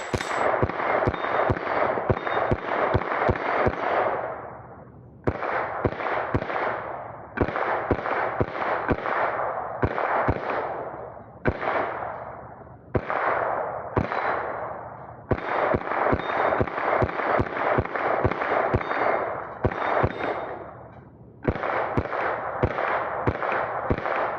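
A Ruger 10/22 Magnum rifle firing from an MWG 50-round magazine, with rapid loud cracking shots in long strings broken by short pauses, sharp and close, with no talking.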